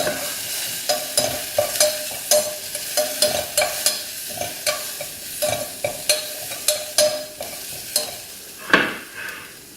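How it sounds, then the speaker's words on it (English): Turmeric and chili powder are stirred into a sizzling pan for South Indian uppuma, a close, rhythmic series of spoon scrapes and taps over a soft frying hiss, with no voices. "And now it's a good time to add in our turmeric and the chili powder. And we'll just give it a stir."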